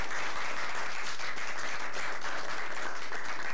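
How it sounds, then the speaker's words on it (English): Dinner guests at a company dinner in a mansion applaud steadily, a dense, even wash of clapping from many hands filling the room without pause. "let's give a round of applause for our experts here."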